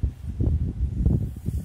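Wind gusts outdoors among potted succulents and cacti in late February, buffeting the microphone as a steady low rumble that swells and dips throughout, with no voices.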